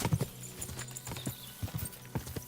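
A horse in the medieval video game Kingdom Come: Deliverance II shuffles and clops its hooves on the ground while being mounted, giving a few irregular clip-clop steps up close with soft rustling between them.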